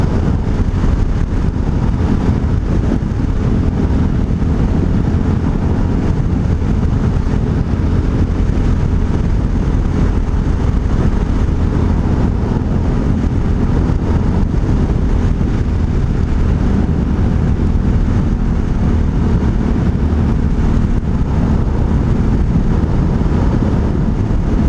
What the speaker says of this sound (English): You can barely even hear the motor in the exhaust.